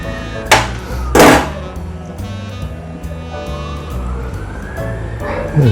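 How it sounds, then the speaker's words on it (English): A police car siren wails with a rising and falling tone in the distance, with a couple of louder bursts of noise early on and steady background hum. "You can hear the police siren."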